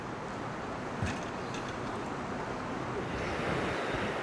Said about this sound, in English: Winds gusting up to 42 miles per hour.